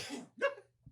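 One close, quiet sneeze comes as a sharp burst after a short intake of breath, with a faint breath sound following.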